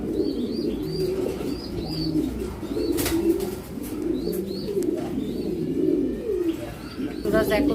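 Racing pigeon chicks coo softly and repeatedly in a loft, with scattered chirps and a brief flutter of wings over a steady murmur of background noise.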